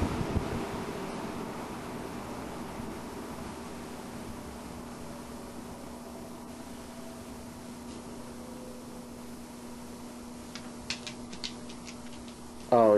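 Eskimo 2016 16-inch box fan winding down: a faint steady motor hum with a low tonal whine slowly fading, light ticking near the end.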